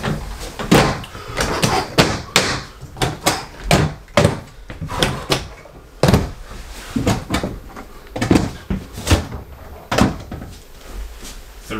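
Large drawers and cupboard doors in a 2022 Heartland Milestone 379FLML RV slam shut one after another, a rapid series of close, sharp thuds and knocks with brief gaps.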